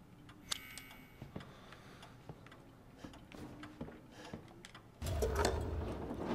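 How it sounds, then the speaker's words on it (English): Steady ticking of a clock pendulum in the Resident Evil 7 horror game, a soft regular tick-tock heard alone, with a louder burst of sound at the very end. "Clock pendulum."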